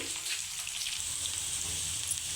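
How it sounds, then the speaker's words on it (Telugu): Onion pieces and whole spices fry quietly in oil in a pan, a soft steady sizzle heard close by with no speech. "ఉల్లిపాయ ముక్కలు దినుసులు మొత్తం అన్నీ బాగా ఫ్రై అయిపోతున్నాయి"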